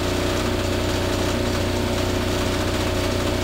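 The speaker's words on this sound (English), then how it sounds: "Now I've got the generator running just slightly above 1800 RPM, which of course is at synchronous speed." Generator running steadily just above 1800 RPM while being synchronized to a bus, a constant loud engine drone with a dense, even hum and no voices.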